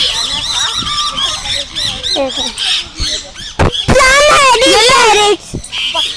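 Shrill, harsh parakeet squawks and screeches overlap in a busy flock at a zoo, with one loud burst of rapid calls near the middle, close and noisy.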